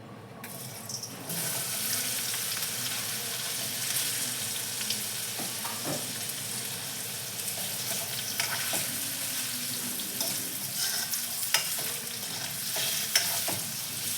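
Cubes of paneer fry in hot oil with a continuous close hiss and crackle, and occasional light clicks of a spoon against the pan.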